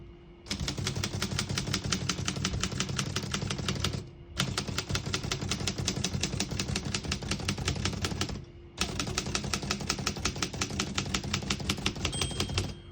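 Rapid, steady keystrokes clatter on a 1940 Underwood Champion portable typewriter in three long runs, separated by two brief pauses near four and eight and a half seconds, close and loud with no talking.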